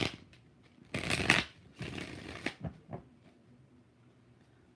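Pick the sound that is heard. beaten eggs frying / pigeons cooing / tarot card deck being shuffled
tarot card deck being shuffled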